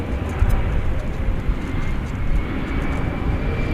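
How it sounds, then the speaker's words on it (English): An Airbus A319 airliner at DFW Airport gives off a steady, loud engine roar that runs without a break through the whole stretch, with no talking over it. "There's an Airbus A319."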